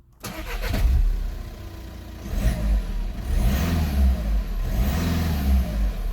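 A 2.0 TDI diesel engine in a VW Tiguan cranks, catches and starts, then rises through several repeated revs, close and loud, with no talking.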